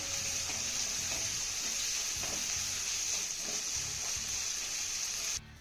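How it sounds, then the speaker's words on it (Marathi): Finely chopped onion sautéing in a pan, a steady close sizzle with faint stirring scrapes running throughout, then cutting off abruptly at the end. "आता हा कांदा आपल्याला हलका मऊसूद होईपर्यंत परतून घ्यायचा आहे."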